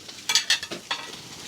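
Scrambled tofu cooks in a pan with vegan butter, a few short, bright scraping and stirring strokes over a low sizzle, close and brief.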